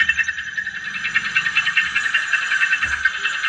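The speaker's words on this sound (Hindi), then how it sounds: "यहाँ आप खटखट और ठोकने पीटने जैसा शोर सुन सकते हैं" Engine piston knocking heard through a stethoscope held on the cylinder, a close, steady stream of rapid tapping and knocking beats in an even rhythm throughout, with no other sound.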